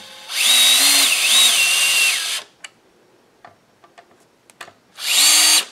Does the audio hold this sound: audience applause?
no